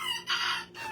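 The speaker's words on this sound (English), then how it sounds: "The chickens are going nuts, y'all." Chickens kept inside a house, a sharp clucking squawk that jumps out mid-moment between softer hen chatter, close and fairly loud, with no voices over it.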